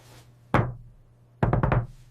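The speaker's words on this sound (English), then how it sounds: "I knock on the table." Knocking on a table, in two bursts: a single sharp knock, a short pause, then a quick series of about four raps, close and clear over a low steady hum.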